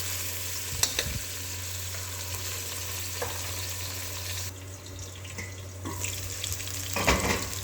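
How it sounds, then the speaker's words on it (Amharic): Onion and garlic fry in a pot with a steady, even sizzle over a low hum, and a few brief clinks and stirring scrapes break through now and then. "ቀይ ሽንኩርት ትንሽ ከጠበስኩ በኋላ ነጭ ሽንኩርት በረጃጅም የተቆረጠ ጨምሬያለሁ።"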